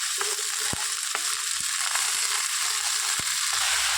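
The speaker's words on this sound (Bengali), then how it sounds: "এবার দেখুন আমি শাকটা দিয়ে দেবো।" Red amaranth greens dropped into a frying pan of shrimp, a loud continuous close sizzle with scattered sharp clicks and taps of stirring.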